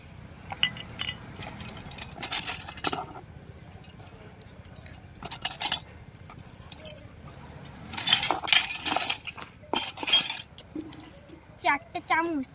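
Small toy kitchen spoons and utensils from a mini kitchen set clink and jingle in several bursts of light metallic chinks, close up, with quiet stretches between them and someone talking now and then.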